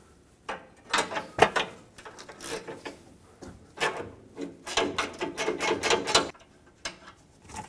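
A 10mm socket ratchet clicking through a run of quick bursts on an AC line bolt of a Toyota 4Runner, close and fairly quiet, with short pauses between the clusters of clicks.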